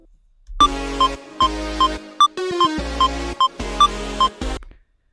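In FL Studio, a sample plays off the grid against a metronome, so short bright ticks clash with repeated synthetic chord bursts that start and stop unevenly, all heard up close and clean with no voice.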